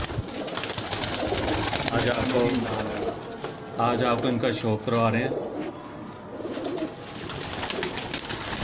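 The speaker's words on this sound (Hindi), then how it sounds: "ये आप चैनल पिजन एकेडमी के कबूतर देख रहे हैं।" Pigeons bred by a renowned Lahore Bhati Gate breeder, including Teddy, Mian Nazir and Prince Golden breeds, coo softly in their loft beneath someone speaking close by throughout.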